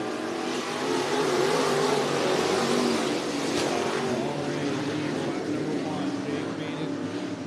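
Dirt track race cars roar through a heat race at Cottage Grove Speedway in Oregon, engines revving in a steady, loud, continuous wash while an announcer talks over them.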